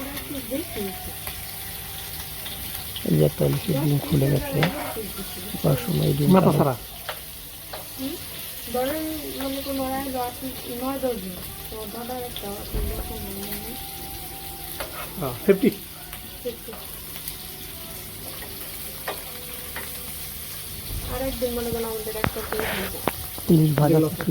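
Hilsa fish frying in an oily wok, a continuous sizzle and hiss with occasional stirring clatter, while a voice talks over parts of it.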